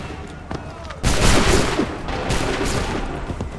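Soldiers fire a musket volley in the video game Assassin's Creed III: a sudden loud crack of many guns at once, followed by rolling, crackling gunfire that trails off gradually.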